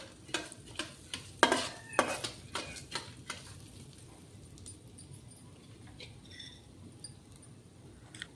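Chana dal dry roasting in a pan over a slow gas flame, a quick run of sharp clinks and scrapes from a spoon stirring the lentils, then a quieter light rustle and faint sizzle.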